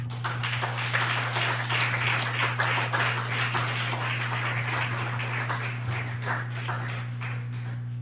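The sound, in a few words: congregation applauding the Lord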